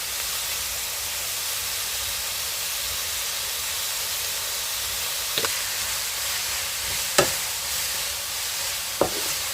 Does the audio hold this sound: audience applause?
no